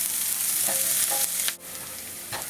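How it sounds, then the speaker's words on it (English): Chili and onion frying in oil over medium-high heat in a pan for chicken tamales, a steady close hiss of sizzling with a few soft stirring scrapes and no voices. "I'm going to add the chili and the onion. And just let this cook up."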